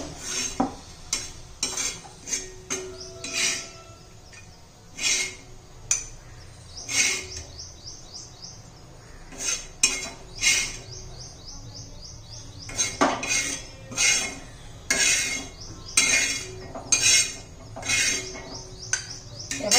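A utensil scrapes and clinks repeatedly against a pan while scooping out peanut chutney, in irregular bursts with quiet gaps between them and faint birdsong in the background.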